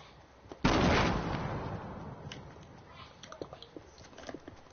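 A grenade explodes in Fortnite Battle Royale with a sudden, loud, close blast that rumbles away over a few seconds, followed by scattered faint clicks and small pops.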